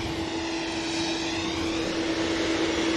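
A Boeing Dreamliner airliner bound for Melbourne at Manchester Airport, giving a steady engine drone with a sustained tonal hum, heard alone and fairly loud for a few seconds.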